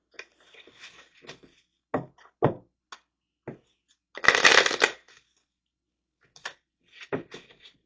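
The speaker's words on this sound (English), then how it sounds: "Let me grab some tarot cards from that, and then we'll know exactly." Tarot cards are picked up and shuffled in several short, crisp bursts of riffling and tapping, with one longer, louder shuffle in the middle, all close by with no talking.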